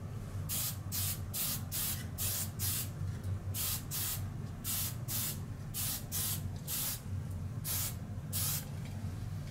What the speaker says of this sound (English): We can spray some white over this right now to do a little bit of winter.